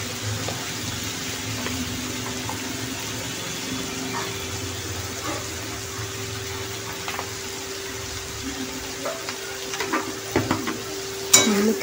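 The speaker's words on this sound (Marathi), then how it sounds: "आता आपण छानपैकी मटकी मिक्स करूया" Sprouted moth beans (matki) being stirred with salt in a cooking pan, a soft, steady scraping and sizzle that runs throughout, with a few louder knocks near the end.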